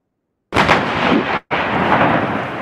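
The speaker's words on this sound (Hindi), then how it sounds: "ये जो फायरिंग दोबारा दिखाता हूं आपको" Artillery guns firing during a military exercise: two loud, close booming blasts in quick succession, each with a rumbling tail, heard alone without talk.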